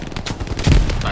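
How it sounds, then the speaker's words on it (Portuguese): Rapid gunfire bursts from the World War II shooter Hell Let Loose crackle across a busy battlefield, with a louder nearby volley near the end, all under ongoing player talk. "tinha tiro ali"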